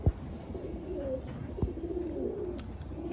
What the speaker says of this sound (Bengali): দর্শক এখন দেখাবো আপনাদেরকে একটা সিলভার বেজি কবুতর।